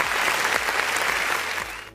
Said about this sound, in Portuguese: O Brunão nessa hora levanta o salvo de palmas,